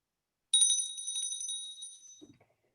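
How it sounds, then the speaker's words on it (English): A single bell struck to close a Kiwanis club luncheon meeting rings out with a clear bright tone that fades over about two seconds, followed by a faint knock. "why don't I just ring the bell and bring it to a close?"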